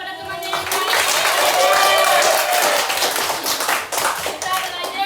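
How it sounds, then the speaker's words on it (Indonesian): A primary-school class gives a classmate a round of applause, with steady, dense clapping from many hands filling the room for several seconds before tapering into scattered claps near the end. "Beri tepuk tangan kepada temannya yang lain."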